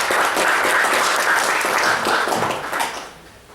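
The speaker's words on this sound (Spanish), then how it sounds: "Recibimos con un fuerte aplauso al magíster Joel Rojas Oinate." Loud, full applause from an academic audience at a Peruvian philosophy event welcoming a speaker, a dense sustained wash of clapping that fades over the last second.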